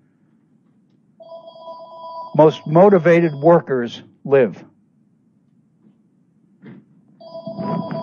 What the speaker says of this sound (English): I apologize for the phone, but I'm in my study and I have another phone.